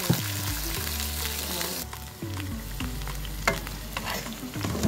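Bamboo shoots (dabong) fry in a small frying pan with a loud, steady sizzle, while a ladle scrapes and clatters through them in uneven strokes close by.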